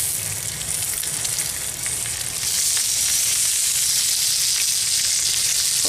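Bacon sizzling on a hot stone beside an open fire, a dense, continuous crackling hiss that grows louder partway through and then holds steady, close up with no voices.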